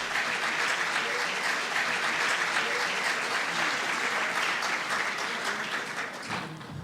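An auditorium audience at a rural congress panel applauds a panelist, a dense, steady wash of clapping from many hands that holds throughout and begins to thin just at the end.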